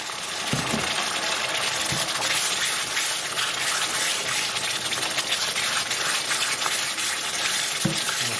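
Steady hissing sizzle from a pan on high heat, with soft scraping of a utensil stirring curry paste mixed with water, thick liquid, continuous and close.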